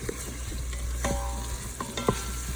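Vegetables sautéing in an Instant Pot on sauté mode for pav bhaji, a soft steady sizzle punctuated by a few sharp stirring scrapes and taps against the metal pot, no voices.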